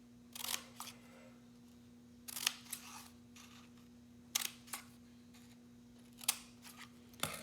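Scissors snipping fringe into a cardboard toilet paper roll, a series of short crisp cuts in small irregular clusters, close and fairly quiet against a faint steady hum.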